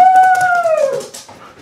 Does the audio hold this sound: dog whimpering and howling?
yes